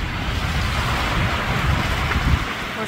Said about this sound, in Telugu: వాటర్ వేవ్స్ ఇలాగే ఉంటాయి.